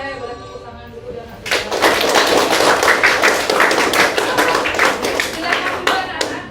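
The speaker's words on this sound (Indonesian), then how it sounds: "Boleh tepuk tangan dulu" A class of schoolchildren clapping their hands in an Indonesian classroom, a burst of many quick, uneven claps starting after a short pause and continuing steadily to the end.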